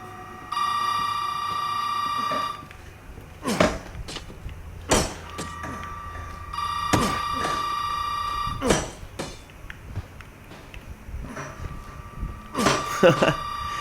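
A telephone rings in the Resident Evil 7 demo, its electronic tone coming in repeated bursts among thumps and clatter from the game.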